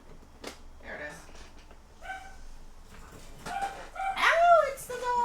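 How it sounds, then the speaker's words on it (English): Old dogs, about eleven years of age, barking indoors in a string of sharp, separate barks that grow louder and more frequent toward the end, mixed with whimpering and a person talking. "it's the dogs barking again"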